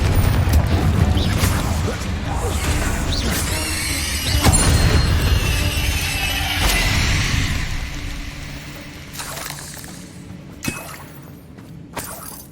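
A Confringo fire spell blasts in Hogwarts Legacy gameplay, bursting into a loud crash with shattering debris and rumbling booms that fade, followed by a few scattered magical impacts and quieter clatter.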